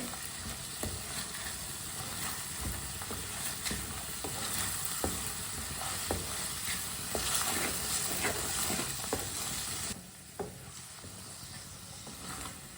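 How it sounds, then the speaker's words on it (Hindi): Fresh peas cook in a hot pan with a steady, close sizzle and hiss, while a spoon stirs them with light scraping clicks scattered throughout; the frying softens slightly near the end, and no one speaks. "मटर डाल के 3 मिनट के लिए पका लेंगे चम्मच चलाते हुए"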